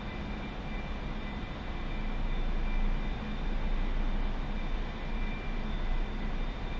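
A steady, loud aircraft engine roar from a plane in the DCS flight simulator, flying low and level along a runway, droning continuously with slight swells and no talk.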